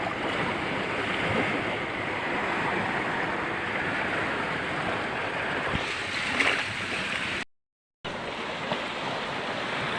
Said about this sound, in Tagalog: iba talaga pag nasa tabing dagat ka